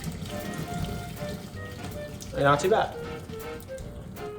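Boiled pasta water is poured from a pot into a strainer, making a brief rushing splash in the middle of the clip, fairly close, between quiet remarks from a person nearby.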